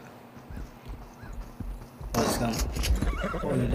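Horse in the survival video game Project Evo, neighing and whinnying with clip-clop hooves that grow louder partway through, heard alongside game sounds and a person talking.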